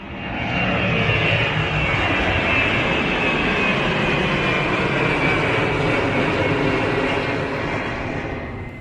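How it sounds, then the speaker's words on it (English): Jet airliner engines roar continuously at London City Airport, a loud steady drone from planes on the runway, alone with no voices. "I can see the planes out on the runway"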